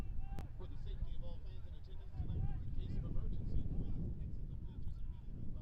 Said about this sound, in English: You can hear over our crowd mic just how windy it is.